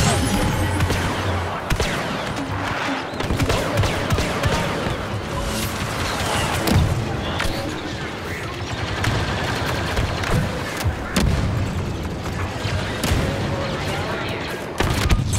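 Rapid blaster gunfire from Star Wars Battlefront 2 crackles in dense, overlapping bursts through a busy palace firefight, with explosions and impacts mixed in and a player talking over much of the action.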